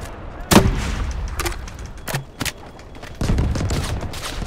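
Semi-automatic five-shell shotgun firing in the Delta Force video game: several sharp, loud blasts at irregular intervals, each with a short echoing tail over steady battlefield ambience.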